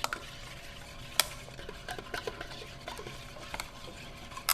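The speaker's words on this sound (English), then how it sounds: "we're going to give that a little stir" A spoon stirs a sauce with black pepper in a pot, giving scattered metallic scrapes and clinks over a low bubbling simmer, close and moderately loud with no talking.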